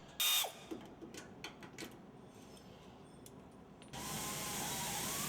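Power tool removing bolts from a fan, with a quiet whirr and mechanical clicks and rattles at first, then a loud, steady whine and hiss that begins partway through and keeps going.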